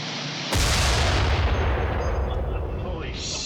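A gun fires with a sudden, heavy blast that booms and rolls on for several seconds with a long, loud rumbling tail.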